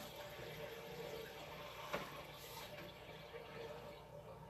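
Groundwater infiltrating through a washed-out joint in an old clay sewer pipe, a faint continuous trickle and splash echoing in the pipe, with one brief sharper drip or knock partway through.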